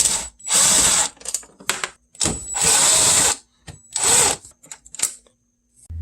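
Power tool whirring in several loud, sustained bursts with short gaps as 8mm bolts are backed out where the bumper meets the fender of a BMW E90, a ratcheting mechanical buzz, close and alone.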